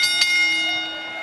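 Ring bell at an AEW wrestling event before a championship match, struck twice in quick succession, its bright metallic ring then hanging and slowly fading, with no voices.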